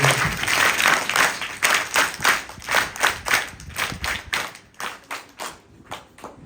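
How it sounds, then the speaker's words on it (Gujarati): An audience at a primary school community event claps in a steady rhythm, loud and close at first, then thinning and softening toward the end. "આવો, તાળી વગાડીએ."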